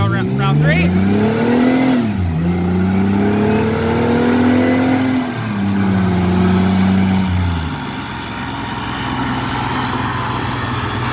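A car revs hard on a chassis dyno, its engine pitch rising in two loud pulls and then dropping back to a lower steady drone, with a brief voice over the top.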